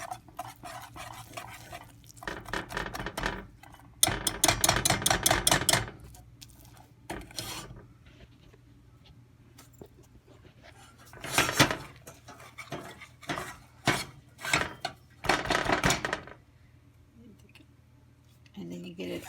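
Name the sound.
stirring play-dough mixture in a pot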